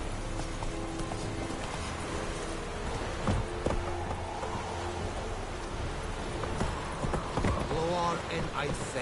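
Roach the horse gallops in The Witcher 3 with rapid continuous hoofbeats under a steady outdoor wash, mid-distance and even in level, with a voice speaking over it.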